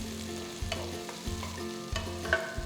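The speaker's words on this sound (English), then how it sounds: "add 1 large onion finely chopped. Just saute that for a minute" Chopped onion, garlic, green chilies and curry leaves sauteing in a pan, a soft steady sizzle broken by three regular scraping stirs.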